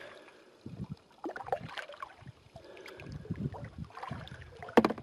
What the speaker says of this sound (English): Oh, and I'm scraping over rocks.